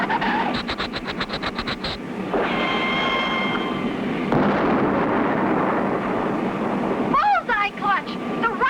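A cartoon rocket explodes on a decoy flare with a loud, sustained roaring blast lasting several seconds, bracketed by voices before and after.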